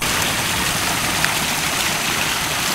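A stream flows at some distance across marshy ground with rocks, a steady broadband rush of water that stays even and continuous, with no voices.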